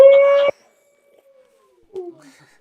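A man imitates a wolf howl with his voice, a loud short held tone that cuts off abruptly, followed by silence and a fainter, falling second wail.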